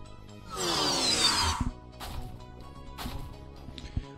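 A drill in a VR video game whirs up in a rising, high-pitched mechanical whine for about a second, followed by scattered knocks and clicks, moderately loud and close.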